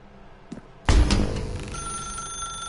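A telephone in The Stanley Parable starts ringing after a faint click, a sudden loud bell-like burst that rings on and slowly decays with a lingering tone, no talk.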